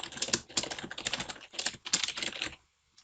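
Quick clattering keystrokes on a computer keyboard as a sheet name is typed, a close burst of about two and a half seconds that ends abruptly in silence.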